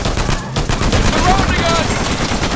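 Rapid gunfire in the action game Uncharted 4: A Thief's End during a firefight, loud, dense and continuous shooting up close, with shouting voices mixed in.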